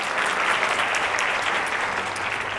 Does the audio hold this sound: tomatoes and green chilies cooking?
no